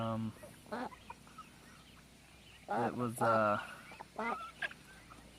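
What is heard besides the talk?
Rhode Island Red chickens clucking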